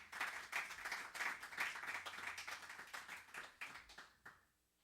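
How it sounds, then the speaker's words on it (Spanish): Applause from a congregation inside a church sanctuary, lively rhythmic clapping for about four seconds before tapering off abruptly to quiet. "Dame un aplauso fuerte a ellos"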